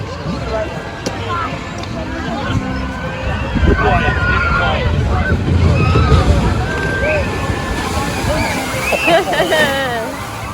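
Log flume boat splashes down at Snake River Falls in Cedar Point amusement park, a loud rushing surge of water amid crowd chatter and screams.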